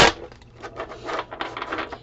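A tarot deck is shuffled by hand with the cards catching and sticking: close, crisp rustling and riffling bursts in quick, uneven succession.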